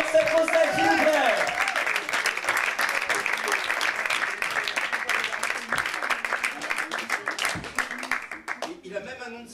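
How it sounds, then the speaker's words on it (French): An audience at the 3 Baudets in 2010 applauds slam poet Seb Vossel with lively, crisp clapping. A voice sounds at the start, and the applause thins and fades as talking resumes near the end. "Voilà, on peut applaudir Seb Vossel, s'il vous plaît."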